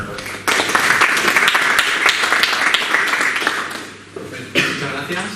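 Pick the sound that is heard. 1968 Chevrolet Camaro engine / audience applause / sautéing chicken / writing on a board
audience applause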